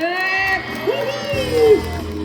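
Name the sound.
crowd cheering and shouting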